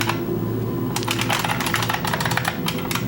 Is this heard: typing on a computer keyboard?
yes